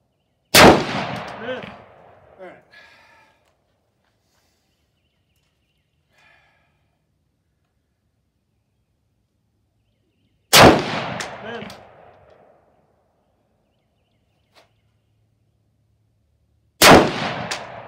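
Three loud rifle shots during three-position rifle drills outdoors, each a sharp, booming crack followed by a rolling echo and spaced several seconds apart, with faint sounds in the quiet between.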